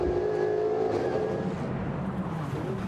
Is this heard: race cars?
yes